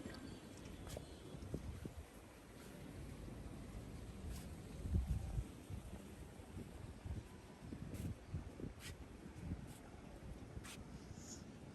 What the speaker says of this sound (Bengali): বাতাস বইছে দেখুন।